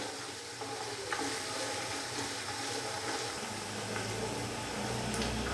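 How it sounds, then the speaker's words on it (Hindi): Mutton pulao masala fries in a pot, giving a steady, continuous sizzle with faint stirring scrapes throughout, close and moderately loud, with no talking. "अभी मैं इसको मज़ीद 3 से 4 मिनट के लिए भून लूँगा।"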